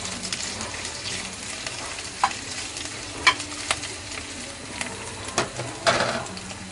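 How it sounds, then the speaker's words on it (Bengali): Chopped onion frying in hot oil in a pan, a continuous soft sizzle with occasional utensil clicks and scrapes, fairly close and moderately quiet. "এখন দিচ্ছি পেঁয়াজ কুচি। তো পেঁয়াজটা আমি একটু ভেজে নিব।"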